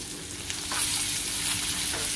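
Thin, semolina-coated slices of jitada fish fry in a pan with a steady, close sizzle that swells a little partway through, with no voices.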